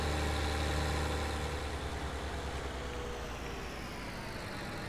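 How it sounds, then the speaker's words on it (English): Tractor engine in Farming Simulator 19 running at a steady, loud drone throughout, easing slightly in volume toward the end, with no talk over it. "It would help if I could drive a tractor."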